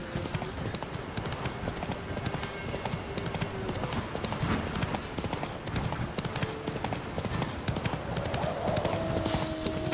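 Horse hooves of Roach in The Witcher 3 clip-clopping in a quick, steady rhythm at close range, with a faint tonal drone beneath and brief hum-like sounds near the end.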